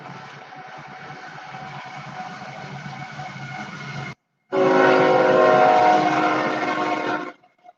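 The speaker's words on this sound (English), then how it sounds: "Fucking train!" A passing train roars close by with a loud, sustained horn blast over rumbling wheels, dropping out briefly and then returning even louder before cutting off abruptly.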